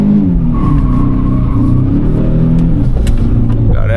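A small car pulls out of a driveway, its engine a close, loud, steady rumble with a slight rise in revs and some tyre noise, continuous throughout with no voices.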